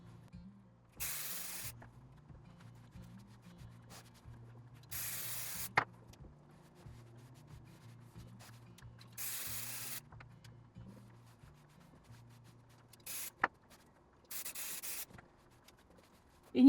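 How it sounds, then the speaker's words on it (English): Hands smooth a fabric quilt panel flat, producing several soft, brushing swishes in separate bursts with quiet pauses and small taps between them, close and fairly faint. "And I'm just smoothing it out as I go along."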